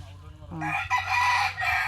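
A rooster crows loudly and nearby, with clucking chickens around it.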